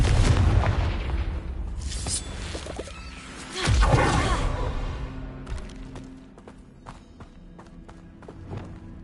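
A Confringo fire spell explodes in the video game Hogwarts Legacy: a deep boom and thud near the four-second mark, with rumbling fire and debris before it and scattered thumps and footsteps afterward.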